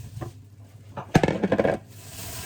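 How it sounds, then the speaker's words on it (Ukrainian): Vegetables for grilling are tipped into a plastic bag in one short clattering pour of knocks and rustles lasting under a second, preceded by quieter handling. "Оці всі овочі висипаєте в пакет."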